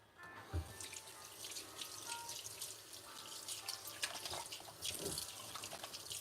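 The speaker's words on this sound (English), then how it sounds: "Rinse my hands off." A kitchen tap runs steadily while someone rinses tomato pulp off their hands, water splashing and dripping into the sink at close range with small irregular splashes.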